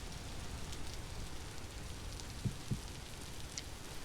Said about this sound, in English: Oh my goodness, it's raining so much.